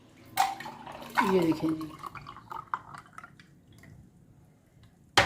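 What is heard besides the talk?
falsa juice being poured into glasses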